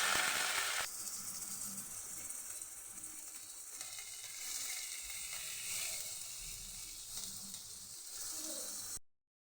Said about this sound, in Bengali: এবার আমি নারকেলটা ভালো করে ভাজা হয়ে হয়ে গেলে আমি সেটা দিয়ে দেবো